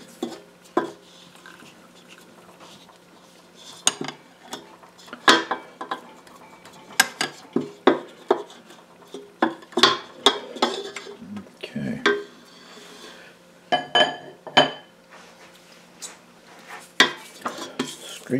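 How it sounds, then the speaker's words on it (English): Ciabatta dough being scraped off a stand mixer's metal paddle, a run of uneven clinks, taps and scrapes of utensil on metal, close and fairly loud, with quiet gaps between strokes and no talking. "And scrape off any dough that's attached to the paddle here."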